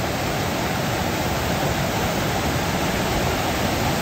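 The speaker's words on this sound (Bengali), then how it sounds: "ইউ ক্যান সি যে ঝর্ণাটা এইখানে" Waterfall in a forest, a dense continuous rushing roar of falling water that stays steady and loud from start to finish, with no voices.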